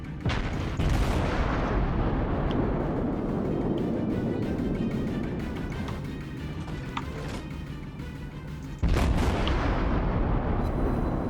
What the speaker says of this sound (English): Let's see if we can't get some shots on this guy at long range.